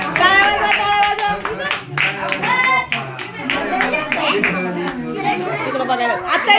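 Children clap and chatter together at a home birthday celebration, a busy, close mix of hand claps, shouts and young voices running continuously without a pause.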